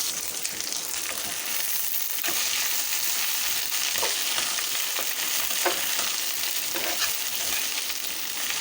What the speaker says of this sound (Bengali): এখন এগুলোকে একটু ভালো করে ভেজে নেব।